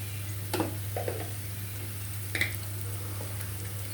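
Ginger garlic paste and spices frying in a pan, a quiet steady sizzle with a few soft stirring scrapes and clinks on top.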